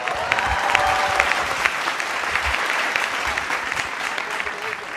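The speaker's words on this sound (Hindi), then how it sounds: "एक बार किशोर जी के लिए तालियां।" A studio audience at a televised Hindi poetry and parody show breaks into sustained applause, dense rapid clapping that stays loud for several seconds before easing slightly.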